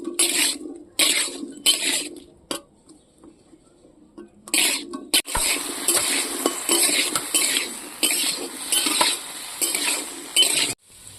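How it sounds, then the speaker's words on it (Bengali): Potato pieces frying in a pan with turmeric and salt: a soft sizzle broken by repeated scraping and clinking of a metal spatula against the pan, in bursts with brief pauses, close and fairly loud. "একটু হলুদ দেব, একটু নুন দেব। আলুটা লাল লাল করে ভেজে নেব।"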